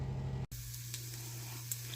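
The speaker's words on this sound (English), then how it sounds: "let's cook some eggs before my chicken and taters get done all the way" Eggs fry in a home kitchen pan with a steady close sizzle, broken by a brief dropout and followed by a faint click or two.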